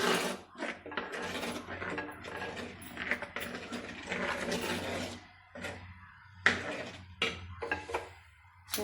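A metal pan clatters onto a stove among bursts of rattling and clinking kitchen handling, irregular close metallic knocks separated by short quiet gaps.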